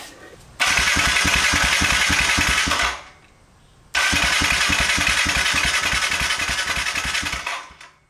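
A Kawasaki KLX 110L dirt bike engine, on fresh gas, a fresh air filter and a new battery, cranks in two long, loud bursts of rapid rhythmic chugging, separated by a short pause, before dying away without catching.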